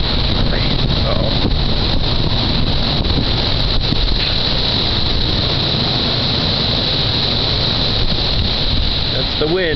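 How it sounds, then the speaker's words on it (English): Strong wind roars on a very windy night in Western Pennsylvania, a loud continuous buffeting rush battering the microphone near a building, with a faint voice under the gusts. "That's the wind."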